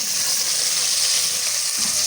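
Potatoes and peas hit hot oil in a frying pan for aloo matar pulao, giving a dense, continuous bright sizzle that stays loud and even throughout, with no talking.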